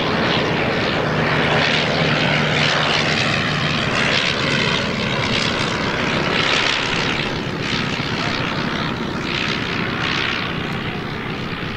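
An Avro 504K biplane's engine drones loudly and continuously at an air pageant, with a rough, pulsing rasp as it flies past, no voices over it.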